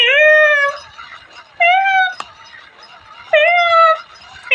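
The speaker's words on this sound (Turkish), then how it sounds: "Şöyle yaptığınız zaman ses miyav miyav diyor." A toy gives out repeated electronic meows, three high-pitched cries separated by short pauses, close and clear with a small click between.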